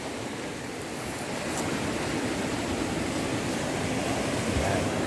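Steady sea waves wash along the shore at Surip Mountain Beach Resort, a continuous broadband rushing surf with some wind, fairly loud and unbroken, no talk.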